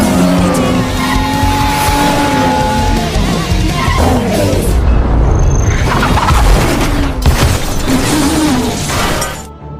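A car swerves out of control and crashes in a film scene: loud, continuous engine roar and skidding tires with crunching impact and shattering debris, fading out at the end.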